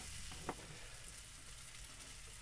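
Breakfast frying in a pan aboard a sailing boat makes a soft, steady sizzle, with a single brief scrape of stirring early on, faint and continuous.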